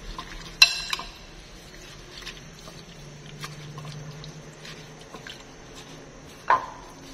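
Vegetables being tossed and mixed in a bowl for vegetarian spring rolls, with soft scraping and stirring patter, a couple of sharp clinks near the start and near the end, fairly quiet and without talk.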